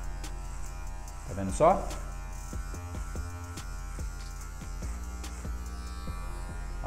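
Electric hair clipper buzzing steadily close by while cutting a fade into afro hair, with a brief louder burst and a person speaking over the hum.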